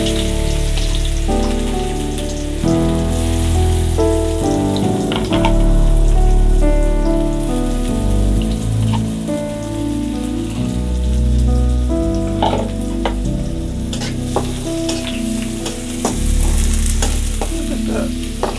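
Sliced onions sizzle loudly in hot oil in a pan for a fish dish, a steady close crackling fry with repeated scraping stirs, under a continuous background of music and no talking.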